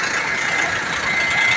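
A provincial bus engine idling at a loading terminal, a steady low rumbling drone with a faint rattle, continuous and close for a brief stretch, no voices.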